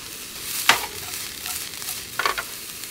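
A handful of onions cooks in a pan as a risotto base, a soft ongoing sizzle broken by a couple of sharp scrapes and clatters from stirring, fairly quiet and close, with nobody speaking.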